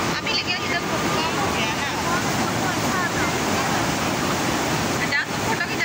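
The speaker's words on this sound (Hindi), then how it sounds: "पूरा उफान पे है पानी" A canal in full flow roars continuously and loudly nearby, a dense rushing wash of water with wind buffeting the mic.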